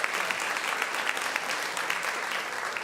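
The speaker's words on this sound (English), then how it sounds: "Can we have a huge round of applause for our speakers today?" A congregation at a Columbine Unity Spiritual Center Sunday service applauds its speakers with a warm, sustained round of clapping. The applause is dense and even from start to finish, with scattered sharper claps standing out.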